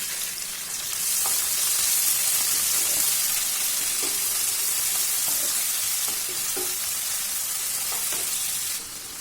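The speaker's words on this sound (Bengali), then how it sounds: "আমি কুচিয়ে রাখা পেঁয়াজটা এর মধ্যে দিয়ে দিচ্ছি" Chopped onion frying with whole spices in a wok, a steady loud sizzle with occasional soft clinks of a spoon stirring, no talking.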